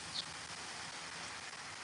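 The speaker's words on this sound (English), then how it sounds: "Today we have rain. It's just raining out here." Steady rain falls outdoors near a garage, a dense, even hiss that holds at constant loudness throughout with no voices.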